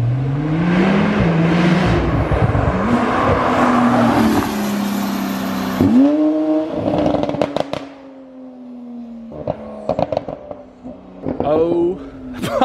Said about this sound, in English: I want you to hear what it sounds like as a drive-by and just see how quick things this thing shifts